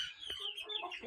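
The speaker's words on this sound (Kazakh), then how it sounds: "Бізде мұнда бүкіл тауық балапан бәрі араласып кетті." Chickens and small chicks clucking and peeping together in a mixed flock on a farm, a steady, faint chatter of overlapping calls without pauses.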